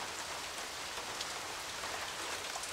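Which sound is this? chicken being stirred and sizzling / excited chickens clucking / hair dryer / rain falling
rain falling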